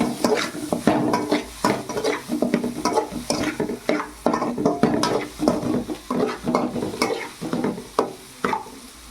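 Repeated scraping and stirring of an egg keema mixture in a metal pan, with a steady rhythm of spoon strokes over a soft sizzle; loud and close, with no talking.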